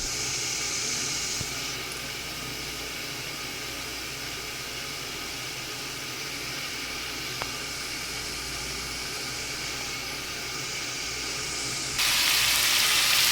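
Cucumber, potato and soybean sizzle in a pan, a steady broadband hiss that runs the whole time and swells louder near the end.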